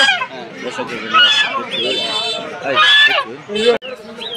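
Chinese ducks and geese at a village poultry market honk and cackle loudly and close, repeatedly, mixed with people talking over them.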